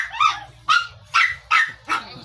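A dog barks five times in a steady, evenly spaced series, loud and close, over a low background hum at a family home in Maragondon.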